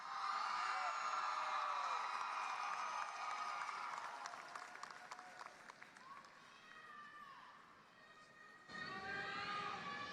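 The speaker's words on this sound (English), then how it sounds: "Let's give a round of applause to the Johnson & Wales University class of 2025." A crowd at a university commencement applauds the graduating class of 2025. The clapping is loud at first, then thins and fades, and a fresh burst of cheering and clapping rises near the end.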